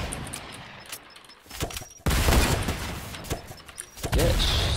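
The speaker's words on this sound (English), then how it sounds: "Who's this guy who's shooting at me?" Rapid gunfire in the battle royale video game Fortnite, with bursts of shots and sharp reports, a louder barrage arriving near the middle and continuing to the end, with no one talking over it.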